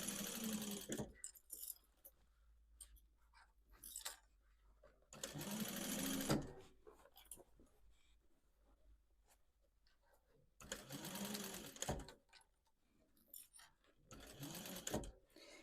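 A sewing machine stitches old denim jeans into a tote bag in short, quiet bursts of fast mechanical whirring. Pauses between the bursts carry faint handling clatter.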